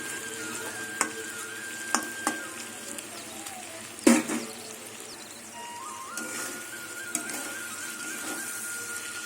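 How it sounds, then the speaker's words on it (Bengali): Food frying in oil in a pan over a gas flame, a soft continuous sizzle broken by occasional light clicks and scrapes as a spatula gently turns it. "খুন্তি দিয়ে হালকা হাতে নাড়তে হবে"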